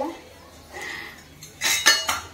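Steel kitchenware, a kadhai and pressure cookers, is handled close by, giving clanks and metallic clinks in a few quick bursts after a quieter stretch.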